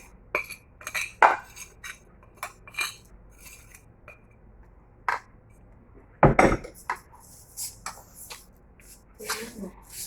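A metal spoon works a chicken marinade of garlic and seasoning in a dish, giving scattered clinks and scrapes against the dish, some sharp and loud, with quiet gaps between.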